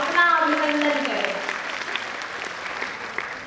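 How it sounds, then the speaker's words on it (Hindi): An audience at a women's spiritual convention applauds, a dense crowd clap that starts loud under a sustained sung or spoken voice, then continues more thinly and steadily as the voice drops away. "आप सब अपने लिए तालियां बजाएं, अपना अभिनंदन करें"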